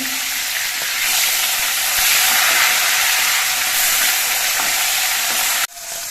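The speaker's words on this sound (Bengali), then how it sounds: "মাছের এক পিট আমি কিছুক্ষণ ভেজে নিয়েছি এবার মাছগুলো আমি উল্টে দেখছি" Pomfret fish fry in hot oil in a wok, giving a loud continuous sizzle and crackle that cuts off abruptly near the end.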